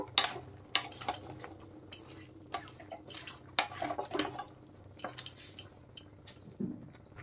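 A spoon works vegetables and ground spice paste around in a pot, giving irregular scraping and knocking strokes over a low steady background with no talk.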